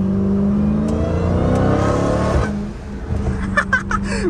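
A Dodge Challenger Hellcat Redeye's engine revs loudly and climbs, then drops off sharply as the revs fall, leaving a lower idle rumble with a few faint ticks.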